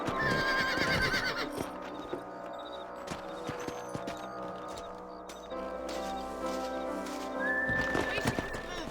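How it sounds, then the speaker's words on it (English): Horses in the Xbox 360 game Red Dead Redemption, a whinny and steady hoof clip-clop carrying under a dense game soundtrack and ambience, with no talk. "Let's get back on the horses and see what else is going on."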